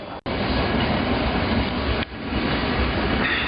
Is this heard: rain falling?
no